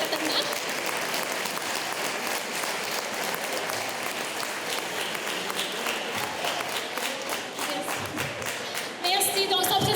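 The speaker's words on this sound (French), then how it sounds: "Oui, on les applaudit, certainement." An evening audience applauds volunteers at a community event, a steady crowd clapping at moderate distance with voices mixed in, rising briefly near the end.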